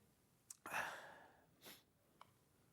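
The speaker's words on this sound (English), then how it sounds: "I'm going to sneeze again." A single sneeze, a short sharp intake followed by a loud, breathy burst that trails off, with a fainter sniff or exhale after it, heard close up in an otherwise quiet room.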